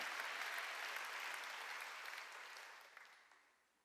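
A church congregation at a Sunday worship service breaks into applause, a dense burst of clapping that gradually fades out over a few seconds.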